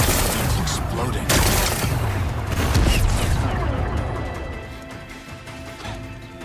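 Rocks are blasted apart in the video game Horizon Forbidden West. Loud, rapid crashing explosions and crumbling debris run in a dense burst, then fade into quieter rumbling.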